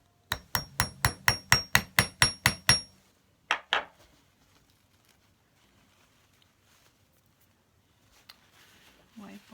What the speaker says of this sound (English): we'll hammer it down.